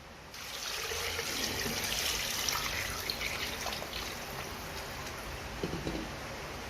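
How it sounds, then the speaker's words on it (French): Water pours steadily into a cooking pot while pumpkin soup is prepared, a continuous soft splashing trickle, close and fairly quiet, with a few small knocks toward the end. "Rajouter un peu d'eau."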